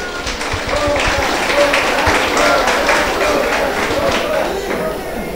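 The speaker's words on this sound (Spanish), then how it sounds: "Demos un fuerte aplauso" A church wedding congregation claps loudly and continuously for the newly married couple right after the kiss, a dense, sustained roar of many hands filling the space.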